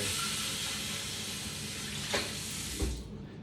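A kitchen tap runs steadily while something is rinsed for a virgin paloma mocktail, a soft even rush with a couple of brief splashes before the water cuts off.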